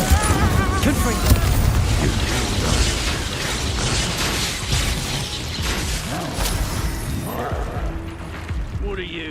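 A Confringo fire spell in Hogwarts Legacy sets off bursting explosive blasts and crackling magical effects amid mechanical clanks, under a player's voice talking over the busy combat.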